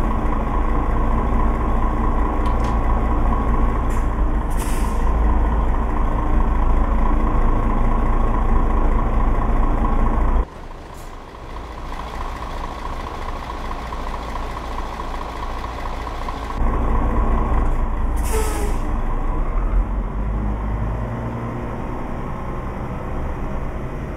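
A Mercedes Axor truck is driven in Euro Truck Simulator 2, its engine droning steadily and loudly with a constant low hum, dropping to a quieter idle-like tone midway before the louder drone returns.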